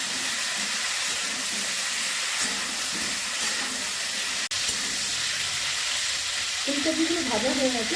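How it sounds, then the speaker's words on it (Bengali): Cauliflower pieces fry in hot mustard oil in a home kitchen, giving a steady, close sizzle throughout, with a single sharp click midway and some scraping stirring toward the end. "প্রথমে ফুলকপিগুলো ভেজে নিচ্ছি।"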